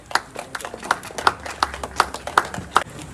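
Sparse, evenly spaced hand claps ring out at a prize distribution for a Nagpur pigeon-flying tournament, about nine sharp claps in a steady rhythm, moderately loud with no talk over them.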